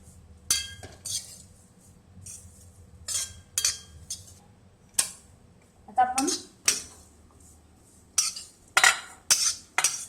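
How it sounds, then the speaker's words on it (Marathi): Dry coconut being roasted in a pan for Maharashtrian kala masala, stirred with a metal spoon that gives a series of sharp clinks and scrapes against the pan, irregular and close, with quiet talk between strokes. "आता आपले हे खोबरे भाजत चाललेले आहे चांगले तांबूस रंगावर आलेलं आहे"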